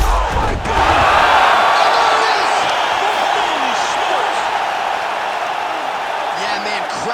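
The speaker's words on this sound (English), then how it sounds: "crowd loving it" A fight crowd roars after a knockout finish, a loud sustained mass of cheering and shouting that dips briefly and then carries on at high level, with commentators talking over it.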